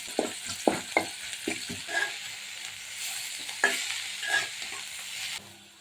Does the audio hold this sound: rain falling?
no